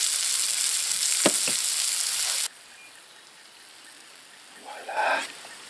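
Steak fries in a pan with a loud, steady sizzle that abruptly drops to a faint hiss halfway through, followed by a short muffled rustle or clatter near the end.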